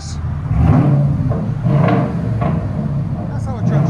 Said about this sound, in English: All right, give it gas.